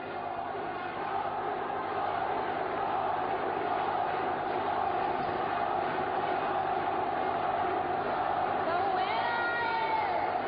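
Dense crowd noise at a SEA Games Muay Thai bout, with cheers and shouts for the home fighter in the blue corner rising and falling steadily across the whole stretch. Loud and close.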